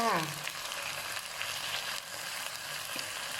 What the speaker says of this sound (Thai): เดี๋ยวรอให้หมูสามชั้นของเราสุกก่อนนะคะ ถึงจะเอาข้าวลงไปผัดค่ะ